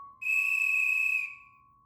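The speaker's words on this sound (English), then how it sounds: "whistle shrieked through the campground, startling campers and counselors alike" A lifeguard's whistle at a summer campground shrieks in one loud, steady, piercing blast lasting about a second before cutting off into quiet.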